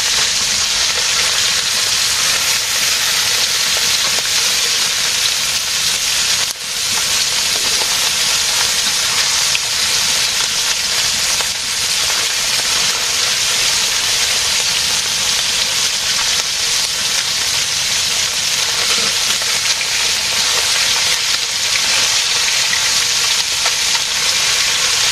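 Fish, bata and pati, fries in a pan on a village clay stove, a steady loud sizzle and hiss that runs unbroken throughout, with a brief stir partway through.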